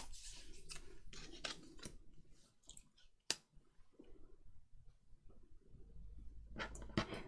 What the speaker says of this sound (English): I am actually going to cut round it a bit more.